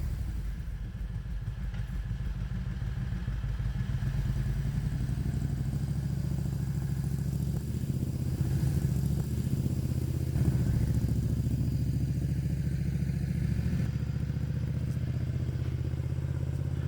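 A Renault fitted with a Predator 670 cc engine and CVT drive reverses, its engine running in a steady, loud mid-pitched drone with faint clatter throughout.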